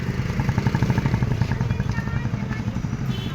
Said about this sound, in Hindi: गार्जियन लोग मोटरसाइकिल से पहुंच रहे हैं